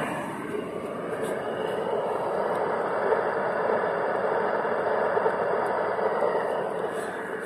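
A Bobcat S175 skid steer loader's engine runs at a steady, loud idle close by, a continuous broadband drone with no change in pitch and no talk.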